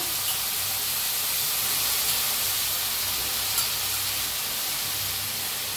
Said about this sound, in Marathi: बटाटो बघा छान असे भाजायला लागले